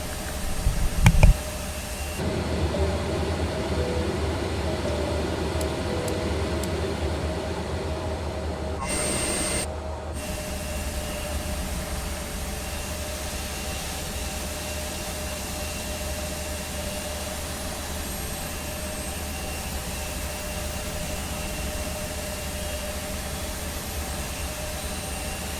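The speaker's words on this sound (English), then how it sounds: "We'll start engine 1." Embraer E-170 engine number one spools up in Microsoft Flight Simulator: a steady broadband jet roar with a sustained whine, after a brief louder thump at the start, holding evenly for about twenty-five seconds.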